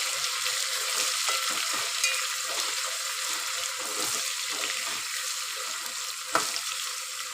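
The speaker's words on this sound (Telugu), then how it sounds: "ఇప్పుడు ఇది ఇట్లా వేగుతుంది కదా" A spiced paste for paneer masala curry fries in a pan with a steady, bright sizzle that runs unbroken throughout, close and fairly loud, with occasional stirring clinks and scrapes.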